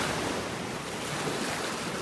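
Warm-water Gulf of Mexico waves churn and break along a North Naples, Florida beach on a morning walk, a steady broadband surf wash with some wind noise on the microphone and no speech.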